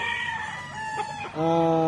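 A nearby Raptor pullet chicken gives a few short clucks, then a loud drawn-out crow, with faint voices in the background.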